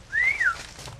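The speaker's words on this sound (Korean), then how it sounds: "미로와 같은 농장에서 휘파람은 이들끼리 주고받는 신호다." A banana plantation worker whistles a signal, a single short, clear rising-then-falling tone lasting about half a second and sounding moderately near.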